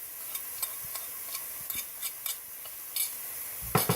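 Paprika and curry powder stirred into onions frying in a pot, a low steady sizzle broken by repeated light spoon scrapes and taps against the pan at an uneven rhythm, with a louder clatter at the end.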